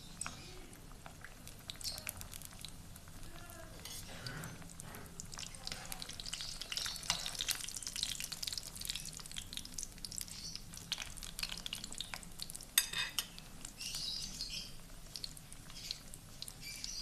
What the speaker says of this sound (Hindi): अब हम बाकी की भी फ्राई कर लेते हैं।